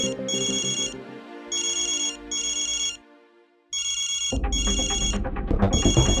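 A phone ringtone plays in repeating electronic ring bursts, then cuts off briefly before music-like ringing resumes louder and fuller.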